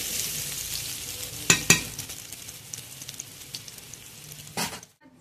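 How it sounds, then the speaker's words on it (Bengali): Pointed gourd (potol) frying in a pan, a steady soft sizzle with a few sharp spatula knocks and scrapes, close, fading to near silence at the end. "প্রায় 6-7 মিনিট ধরে আমি এটা ভেজে নিচ্ছি"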